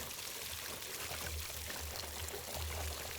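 Water gushes steadily out of a harpoon hole punched through a 55-gallon drum, a loud, continuous pouring splash that lasts the whole moment.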